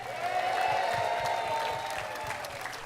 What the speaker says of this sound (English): And let's give ourselves a really big cheer.